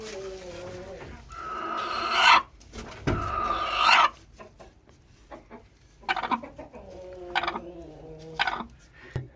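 An Ameraucana hen in a nest box clucks and croaks in irregular bursts, close and fairly loud, with short quiet gaps between the calls.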